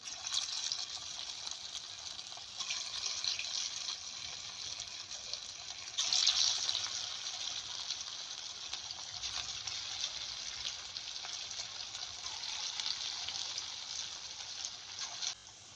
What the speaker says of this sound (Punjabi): ਆਪਾਂ ਛੋਟੇ ਛੋਟੇ ਪਕੌੜੇ ਛੱਡ ਦਿੰਨੇ ਆ ਬਣਾ ਕੇ ਤੇਲ ਦੇ ਵਿੱਚ